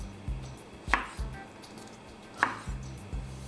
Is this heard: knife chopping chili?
yes